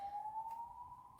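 An ambulance siren outside, a single steady wailing tone that slowly rises in pitch over about a second, clear and unbroken with no talk over it.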